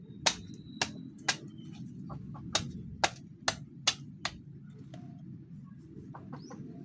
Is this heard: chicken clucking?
yes